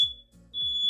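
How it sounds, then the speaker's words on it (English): A smoke alarm gives short, piercing high-pitched beeps, two bursts separated by a brief gap, loud and close. "Smoke alarm's going to go beep, beep, beep."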